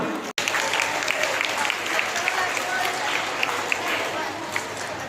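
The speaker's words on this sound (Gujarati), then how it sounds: "તાળીઓના ગડગડાટ." Students at a school quiz competition applaud, a dense, sustained burst of clapping that stays loud and even throughout after a brief cut at the start, with voices mixed in.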